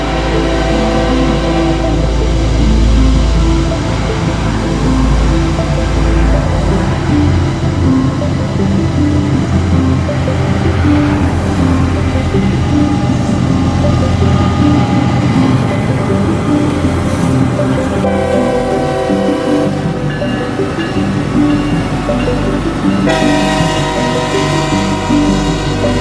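A slow grain train rolls along a railway on a hilly descent toward an S-curve, a loud, steady rumble of wheels and cars with a low engine drone, continuous and close throughout, with shifting squeals and clanks as the cars pass.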